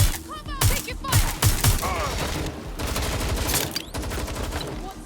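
Gunfire in the video game Watch Dogs Legion, with rapid, dense volleys of shots and impacts, loud and near, running almost continuously through the clip.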